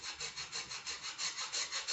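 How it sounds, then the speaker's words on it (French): A hand saw cuts a small notch into a coconut shell in quick back-and-forth strokes, a rhythmic raspy scraping repeating about eight times in under two seconds, close and fairly quiet. "je prends d'abord cette scie là. Je fais petite encoche"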